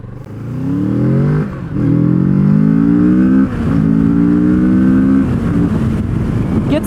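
A 2019 Kawasaki Z650 motorcycle accelerating hard on a highway, its engine note climbing steeply through three upshifts with brief dips between gears, loud and close against wind rush.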